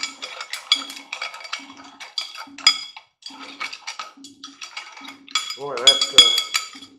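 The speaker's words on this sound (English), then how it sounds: "So let's stir this up just a teeny bit" A spoon stirs potassium nitrate in a container, producing repeated light metallic clinks and scrapes in an uneven rhythm, close and fairly clear, with a person's voice briefly rising near the end.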